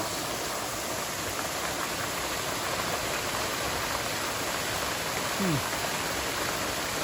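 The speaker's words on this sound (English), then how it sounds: "waterfall number 2 in the series I was speaking of, Big Rock Falls" Big Rock Falls on the Pine Mountain Trail in FDR State Park, Georgia, gives a steady, dense roar of rushing water that fills the whole stretch, with a brief faint bird call partway through.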